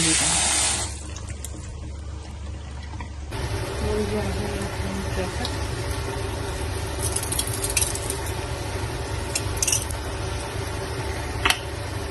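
Cold water runs from a kitchen tap in a home cooking setting, a steady splashing stream that continues throughout with scattered clinks and handling noises.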